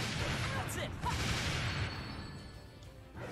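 A party fires its weapons during a battle in Dark Rose Valkyrie, a loud burst of overlapping shots and crashes that fades over a few seconds into quieter echoes.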